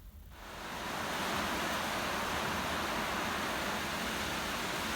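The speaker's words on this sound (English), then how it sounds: "I think you can hear the rain outside." Steady rain falls outside, a constant even hiss that fades in over the first second and then holds level and fairly soft, with no voices over it.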